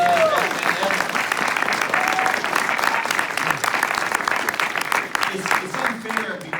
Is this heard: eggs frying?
no